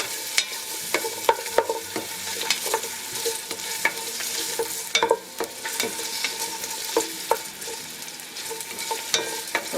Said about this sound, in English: the oil is ready. So we're gonna add our ginger. And a little bit of the onion.